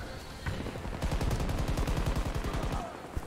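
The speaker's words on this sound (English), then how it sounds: "Who are you shooting at?" Rapid automatic gunfire from a Battlefield 2042 firefight, a steady burst of close, loud shots running for about two seconds and then trailing off.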